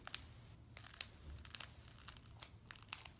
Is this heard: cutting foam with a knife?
yes